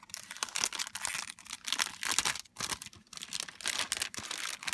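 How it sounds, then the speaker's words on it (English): Packaging crinkles as a pack of paper card toppers is opened, close and in repeated rustling bursts with brief pauses between them. "Sorry for the crinkling noise."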